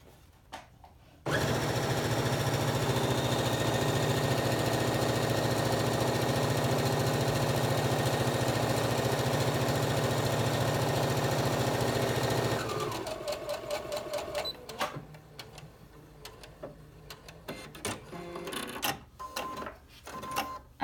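A sewing machine stitching the inset corners of a tunic runs in one long steady whirring burst for about eleven seconds, then slows into short uneven stitches and pauses, loud and close.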